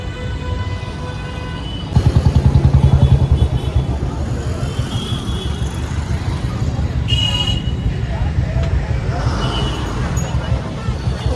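Busy road traffic during Ganesh Chaturthi crowds: cars and motorcycles drone past continuously, with a burst of nearby engine noise and short horn toots, while people talk over it.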